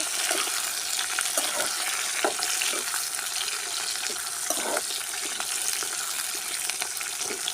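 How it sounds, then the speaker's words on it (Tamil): Shallots and curry leaves sauté in hot oil in a pan for a drumstick tamarind kuzhambu. A loud, continuous close sizzle and crackle runs throughout, with occasional stirring scrapes. "சின்ன வெங்காயம் கருவேப்பிலையும் போட்டு எல்லாமே நல்லா வதங்கும்"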